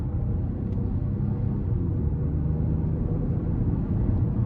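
A 2024 Chevy Trax ACTIV's 1.2-liter turbocharged three-cylinder engine drones steadily from inside the cabin under acceleration, a continuous low rumble holding at a fairly even level with no talking.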